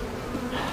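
Steady, close buzzing of a captured swarm of honey bees, a continuous droning hum with no pauses.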